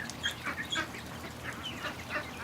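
Quacking from Disco, a pet duck with a permanent limp, comes as a string of short, fairly faint calls spread across a few seconds of quiet background.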